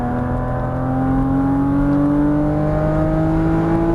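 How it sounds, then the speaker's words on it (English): A Porsche Cayman GTS engine accelerating out of a corner on a race track, a loud close drone whose pitch climbs steadily as the throttle is squeezed. "Now start squeezing on that throttle as we unwind out."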